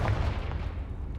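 A Confringo explosive spell fired in Hogwarts Legacy gives a short, heavy burst of a blast, with a dense low rumble that fades over about a second.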